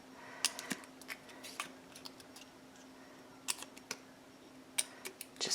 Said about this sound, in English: your scissors, and all you do is cut in here and here.